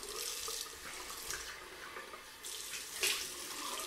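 A tap runs steadily into a sink for rinsing off after a shave, a constant close, moderately quiet splashing with small fluctuations.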